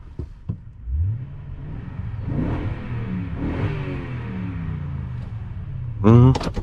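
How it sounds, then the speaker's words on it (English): A 2021 Toyota Tundra 4x4 with a 5.7-liter V8 being revved while parked, several moderate engine swells rising and falling, rather muffled, with a brief voice near the end. "we're gonna do a quick little rev test, see what this thing sounds like"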